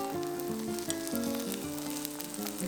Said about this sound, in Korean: 계란을 조금씩 부어 천천히 말아주면 됩니다